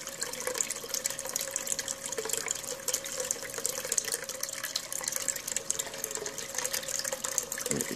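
Water rushes steadily through a Dirt Hogg sluice, washing paydirt down in a dense, constant splashing flow that stays even throughout, fairly close, with no voices.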